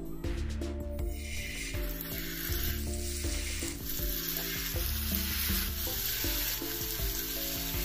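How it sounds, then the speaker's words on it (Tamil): Masala-coated fish sizzles loudly in hot oil, a steady close-up crackle and hiss that runs without a break, joined by a few scraping stirs and no voices. "மீன்களை வந்து எண்ணெயில் சேர்த்துருவோம்"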